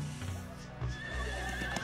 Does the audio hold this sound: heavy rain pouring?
no